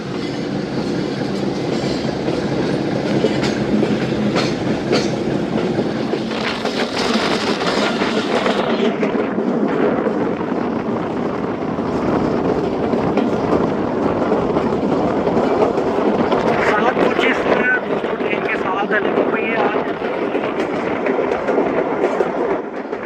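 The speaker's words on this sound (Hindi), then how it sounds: "1 मिनट स्टॉप के बाद रवाना हुई है ट्रेन।" A Thal Express passenger train running on rails, with steady loud rumbling and clickety-clack of wheels rolling on continuously, plus occasional faint squeals and rattles.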